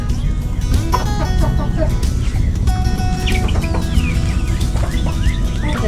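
Backyard chickens and baby chicks cluck and chirp steadily around a coop, with scattered peeps and a faint crow in the busy, close flock noise.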